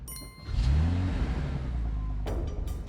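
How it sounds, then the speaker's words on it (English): A car engine catches and revs up sharply, a rising roar that holds steady close by before a brief clatter near the end. "Engine. Start."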